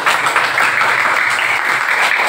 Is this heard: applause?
yes